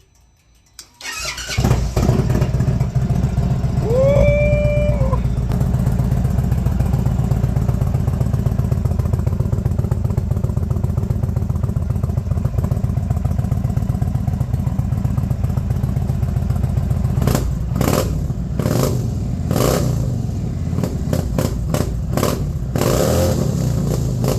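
An Indian Chief Dark Horse bobber motorcycle fitted with a Freedom Performance exhaust fires up and rumbles loudly at close range, settling into a steady throaty idle before a series of sharp revs near the end.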